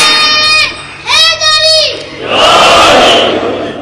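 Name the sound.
children chanting slogans at a religious gathering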